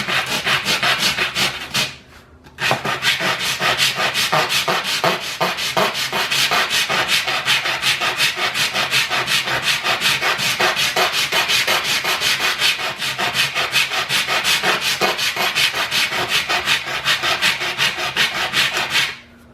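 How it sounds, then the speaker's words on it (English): Steady back-and-forth hand sanding on a wooden ultralight kayak, a fast rhythmic rasp of strokes with one brief pause early on, close and loud. "sanding it enough right here"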